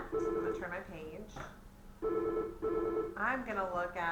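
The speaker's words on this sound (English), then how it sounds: "Sorry about the phone, you guys." A telephone rings in a room during a math lesson on scale drawings. Its steady tones sound in repeated bursts under and between a teacher's continuing talk.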